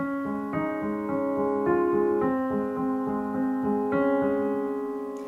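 A short piano passage from the introduction of a song, repeated notes with ringing sustained chords, played steadily and close.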